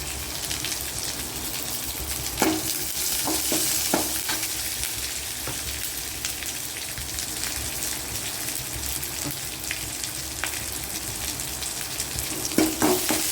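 Green chilies and large onions frying in a pan, a steady crackling sizzle like light rain with a few sharper scrapes and knocks of stirring.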